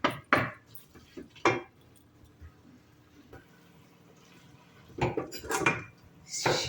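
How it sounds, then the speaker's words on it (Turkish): A knife taps and clicks against a cutting board while thinly chopping potatoes, in quick bursts separated by a quieter pause in the middle. "Şimdi onları ince ince e, doğrayacağım."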